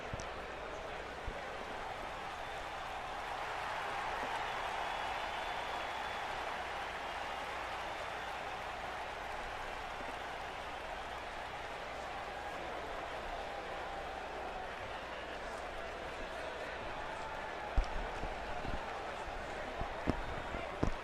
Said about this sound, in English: the crowd seems pretty hyped up, pretty ready to go after the action they've seen so far